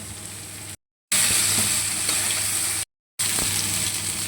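Cubed potatoes and eggplant fry in a pan with salt and turmeric, giving a continuous near sizzle with faint stirring scrapes, cut by two brief dead-silent gaps.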